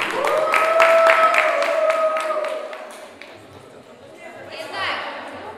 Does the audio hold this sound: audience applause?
yes